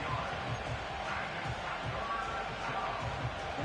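Steady roar of a stadium crowd in the Madden 25 football video game, a dense, continuous wash of noise at even loudness throughout with no clear voices standing out.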